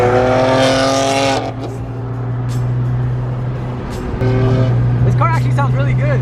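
Loud revving car engine at an illegal Mustang meet, a steady engine drone with a rising rev at the start and again near the end, voices talking over it throughout.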